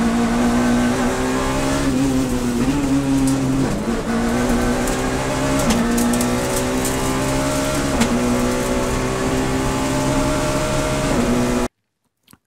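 A Citroën Saxo Kit Car rally car racing on a stage at Thiviers, its engine held loud and high-revving with small dips between gears, sustained close up until it cuts off abruptly into silence.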